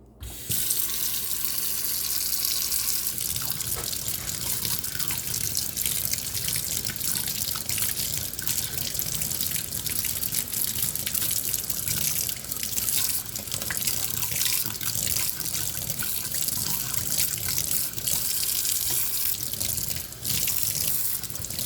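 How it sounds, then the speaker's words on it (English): Water runs steadily from a tap into a sink, a constant close splashing and hissing stream that lasts throughout with no voices. "I'm wondering if I need to run it under a tap."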